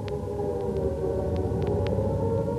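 A wartime air raid siren wails over London during the 1940 Blitz, a steady, sustained tone running unbroken through the moment amid a dense background rumble.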